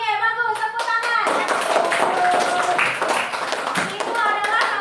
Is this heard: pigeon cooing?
no